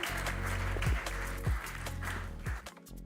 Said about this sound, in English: may I ask you for a big round of applause for Sandrine